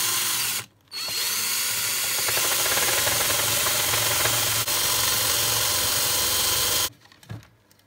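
A small 12-volt motor, powered by a generator built from a washing-machine motor, whirs at a steady high pitch for several seconds, starting and stopping abruptly, loud and close with no talk.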